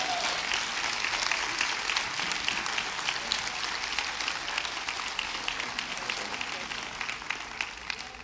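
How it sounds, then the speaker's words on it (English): Audience applause at a health awareness event, a dense, steady wash of many hands clapping that holds at an even loudness throughout, with voices faintly mixed in. "Let's give them another great hand of applause."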